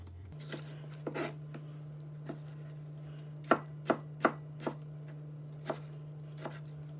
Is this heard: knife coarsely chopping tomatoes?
yes